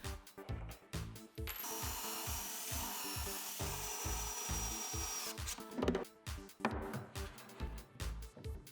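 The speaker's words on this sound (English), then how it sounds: "Now I can screw all the pieces onto the stand. I'll use this long screw from inside the stand." A power drill drives long screws into a wooden band saw stand, with repeated whirring bursts and rhythmic mechanical pulses running steadily close by, no talking.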